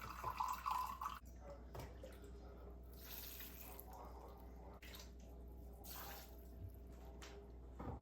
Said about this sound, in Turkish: Bir buçuk su bardağı sirke ekleyin diyorum. Elma sirkesi var.